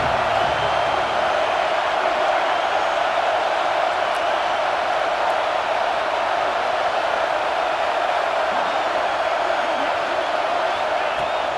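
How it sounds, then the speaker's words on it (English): A home crowd roars without letup in EA Sports College Football 26, a dense wall of cheering that stays loud and even throughout. "how nice is it to have the home crowd going absolutely bananas?"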